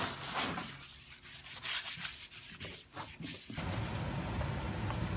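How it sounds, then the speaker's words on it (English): A shop rag wiped over car brakes, several close, soft rubbing strokes over about three seconds, followed by a steady hiss of background noise. "Wipe them down with a shop rag or shop towel."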